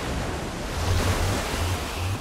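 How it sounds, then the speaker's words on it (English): Water gushing out after a lever is pulled in the video game Minecraft Story Mode, a loud, steady rushing roar like surf that fills the whole stretch without a break. "I don't know how much water this thing is gonna kick out."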